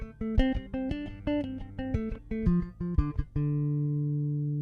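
Bass guitar arpeggio picked with rapid tremolo on a single string, clear repeating notes in a steady triplet pulse, ending on a held low note.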